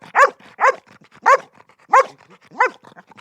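Maru, a ten-year-old retired rescue dog, lets out five evenly spaced, loud, close barks with quieter breathy sounds between them.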